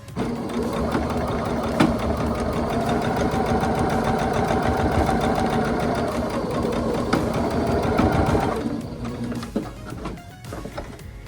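Sewing machine stitching fabric with a back stitch, a regular stitch, then another back stitch: a fast steady motor chatter for about eight seconds, then a short pause and a few brief bursts, close and loud.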